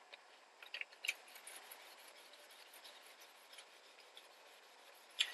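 Sandpaper being rubbed by hand across a Lotus Exige S carbon fiber engine cover, a faint, steady scratching with a few sharper scrapes, quiet and close.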